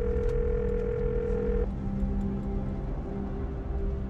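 A steady electronic phone tone hums continuously, shifting pitch partway through, with a low background drone and no voices.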